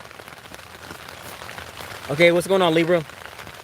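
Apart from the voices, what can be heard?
rain falling outside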